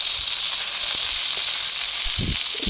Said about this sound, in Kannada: ನೆಕ್ಸ್ಟ್ ಬಂದ್ಬಿಟ್ಟು ಆನಿಯನ್, ಟೊಮೆಟೆ ಬೆಚ್ಚಿಟ್ಕೊಂಡಿರುವಂತಹ ಪದಾರ್ಥಗಳನ್ನು ಹಾಕೋಬೇಕು. ಸ್ವಲ್ಪ ಹಾಕೊಂಡು ಚೆನ್ನಾಗಿ ಫ್ರೈ ಮಾಡಬೇಕಾಗುತ್ತೆ.